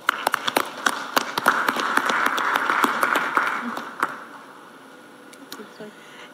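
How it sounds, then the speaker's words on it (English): Audience applause for a panel at a live event in Tanzania with the President present, a burst of clapping that swells, then thins and fades to scattered claps. "Please join me in giving them a very hearty round of applause."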